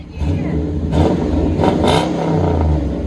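Chevy/GMC 5.7L V8 with an aftermarket exhaust, revving in loud surges over a steady rumbling idle, with two sharper throttle blips near the middle, close by.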